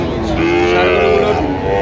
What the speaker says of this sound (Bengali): শাহিওয়াল জাতের গরু